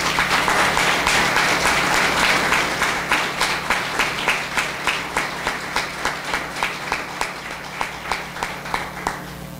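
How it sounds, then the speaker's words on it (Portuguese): A church congregation applauds in sustained, dense clapping that gradually settles into a steady rhythmic beat, loud and close with no talk over it. "Irmãos, aplauda ele, a glória dele."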